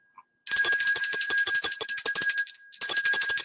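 Bright metallic bells ring continuously in a rapid, shimmering clatter, loud and close, with a brief dip before resuming at full strength; no voices.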